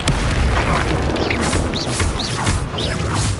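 Spell impacts in Hogwarts Legacy combat, a dense, loud wash of booms, crashes and whooshing magical bursts that continues with little pause.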